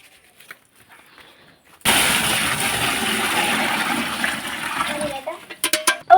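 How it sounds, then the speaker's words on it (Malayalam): Water pours from a bucket into a container holding a fish, a sudden loud gushing rush that begins abruptly and runs for about three seconds, then tapers into splashes and knocks. "ഇതിൽ വെള്ളം നിറച്ച് നമുക്ക് കൊണ്ടിട്ട് അതിൽ ഒഴിക്കണം"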